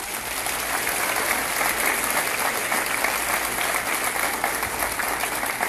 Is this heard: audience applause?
yes